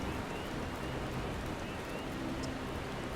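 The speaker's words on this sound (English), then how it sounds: "It's raining." Steady rainfall in the online game Final Fantasy XIV, a constant even hiss of drops pattering on surfaces with no talking over it.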